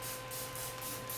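Cooking spray hisses steadily into a Dutch oven in a continuous, close, even burst with no talk over it.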